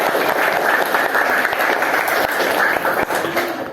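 Classmates applaud in a classroom, a steady dense patter of many hands clapping throughout, loud and close, with no talk over it.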